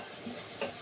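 Grated coconut with cardamom being stirred and sautéed in a pan, a short burst of soft sizzling with a faint scrape of the spoon, close and quiet.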